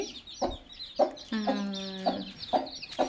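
A mother hen with newly hatched chicks clucks nearby in short, evenly spaced notes, with one longer drawn-out cackle in the middle.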